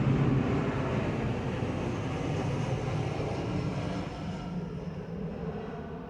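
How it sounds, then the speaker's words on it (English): A vehicle passing by at a distance, a steady broad roar that holds for several seconds and then fades gradually. "the vehicle's passing by"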